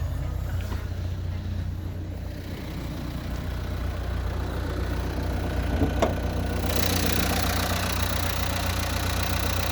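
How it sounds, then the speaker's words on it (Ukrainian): A 2020 Renault Kangoo van's 1.5 dCi diesel engine idles steadily with a low, even rumble and faint rattle throughout, a brief click near the middle, no voices. "верніше дам послухати, як працює моторчик"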